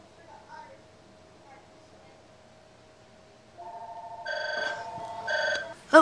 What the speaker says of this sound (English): I had to hang up and answer the phone